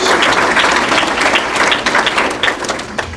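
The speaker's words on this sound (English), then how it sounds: "Let's give a round of applause to our 2017 All-Missouri Valley Conference honorable mention selections." Audience at a women's soccer awards reception giving a round of applause, loud close clapping from many people, continuous and slightly uneven throughout the short burst.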